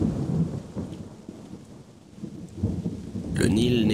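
Rumbling thunder rolls through a rainy-season storm over the Nile region, with steady rain hissing beneath; the deep rumble swells, dips, then builds again while a voice begins speaking at the end.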